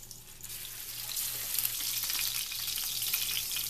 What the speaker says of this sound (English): See, listen to that sizzle.